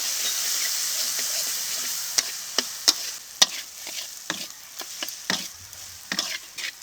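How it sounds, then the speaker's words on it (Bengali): Spice paste of garlic, cumin, salt and turmeric stir-fried in a pan, giving a soft hissing sizzle with a series of sharp spoon scrapes and clacks up close. "এখন মশলাটাকে একটু কষিয়ে নেব"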